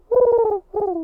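A person imitates a pigeon with a voice: two low, throaty cooing calls, the first longer and wavering, the second shorter, close and loud with nothing else heard.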